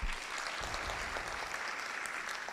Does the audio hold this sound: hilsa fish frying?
no